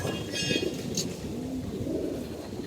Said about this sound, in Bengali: আমাদের কবুতরগুলো দেখেন উড়াই দিছি বাচ্চা কবুতরগুলো উঠতে আসছে